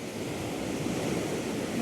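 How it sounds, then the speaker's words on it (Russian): Sea waves wash steadily onto the shore at Mersin, a continuous close, full rushing surf with no talk over it. "Вот такие волны."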